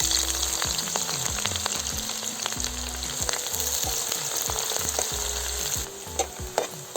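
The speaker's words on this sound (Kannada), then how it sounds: "ಎಣ್ಣೆ ಕಾದಿದೆ. 1 ಈರುಳ್ಳಿ ಹಾಕ್ತಾಯಿದ್ದೀನಿ" Onion dropped into about 50 grams of hot oil for a cashew chicken fry, sizzling and crackling loudly and steadily with repeated stirring scrapes and clunks of a spoon against the pan throughout.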